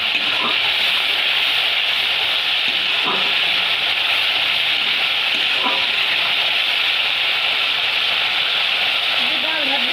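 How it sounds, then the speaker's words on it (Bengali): Green peas frying with spices in a pan, a steady close sizzle with faint stirring knocks throughout. "মটরশুঁটিটা কষিয়ে নেওয়ার সাথে সাথে মটরশুঁটিটা ভাজাও হয়ে যাবে মশলার সাথে।"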